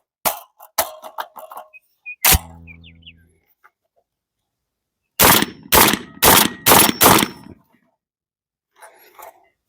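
A Tokarev Tar 12 shotgun fires Winchester Super X birdshot, 2 3/4 inch 1 ounce 7.5 shot, outdoors: a few sharp loud blasts early, then a quick string of five booming shots in steady rhythm.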